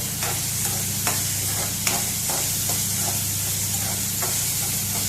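Onion, garlic and green chillies fry in a pan for a Goan dry clam masala, a loud continuous sizzling hiss with intermittent scrapes from stirring, heard close with no speech.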